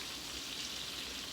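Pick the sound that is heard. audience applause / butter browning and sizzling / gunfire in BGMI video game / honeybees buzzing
butter browning and sizzling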